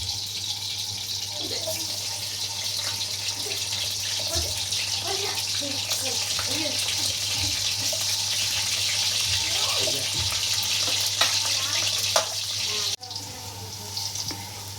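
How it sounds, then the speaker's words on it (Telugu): Onions sizzle in a hot pan of oil as a mutton curry is started, a steady, close frying hiss running throughout with a few faint clinks and quiet voices underneath. "ఫస్ట్ ఆనియన్ వేసేద్దాం."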